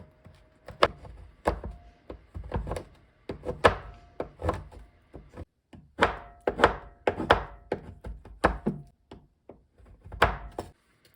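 Knife chopping chocolate into small pieces on a cutting board, a long run of sharp irregular thunks, some quick clusters and some spaced, close and crisp, with brief pauses between bursts.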